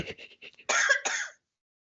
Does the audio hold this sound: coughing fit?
yes